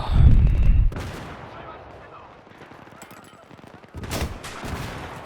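Gunfire in Battlefield 3 multiplayer: a loud burst of shots opens, the fighting fades, then another sharp volley hits near the end, with a voice talking in between.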